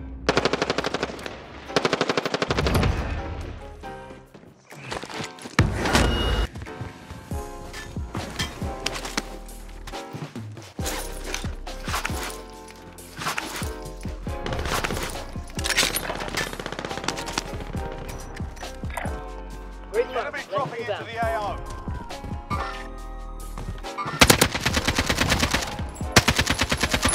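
Sustained automatic weapon fire from the zombie battle-royale shooter Zombie Royale, loud rapid bursts nearly filling the stretch with brief gaps, mixed with game music and effects.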